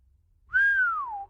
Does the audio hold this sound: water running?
no